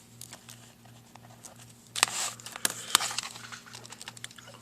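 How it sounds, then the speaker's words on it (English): Fingers tap numbers into a calculator in a quick, light patter of key presses, faint and close, with a slightly busier cluster of taps partway through. "So I go to a calculator. 4 times 5 minus 2. Just type all that in."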